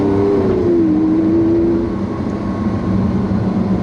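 A Lamborghini Aventador LP700-4 engine drones loudly and steadily at about 4,000 rpm, its pitch dipping slightly then holding, with no talking.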